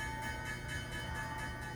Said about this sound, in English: The opening bell at the New York Stock Exchange.